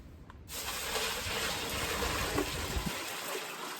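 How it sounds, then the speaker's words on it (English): Hot water runs steadily into a bucket, a continuous broadband splashing rush that starts abruptly and holds at a constant level, near and fairly loud. "I'm running a nice bucket of hot water"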